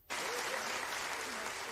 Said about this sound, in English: It's clapping if that's what it's supposed to be.